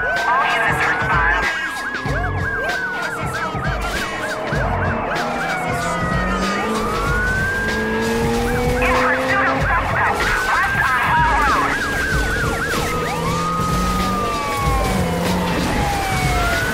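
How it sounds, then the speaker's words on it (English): Police sirens wail and yelp continuously, several overlapping tones sweeping up and down, loud and close over steady traffic noise. "Whoop, whoop. That's the sound of the police."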